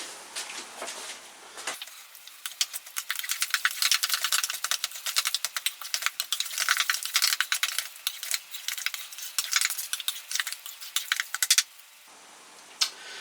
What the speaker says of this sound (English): And I just need to stir that to mix